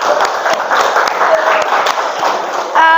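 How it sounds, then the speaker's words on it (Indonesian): A classroom of students claps for a classmate in a school biology lesson, a short burst of loud, close, uneven clapping that ends as a voice begins speaking. "tepuk tangan dulu untuk Andre"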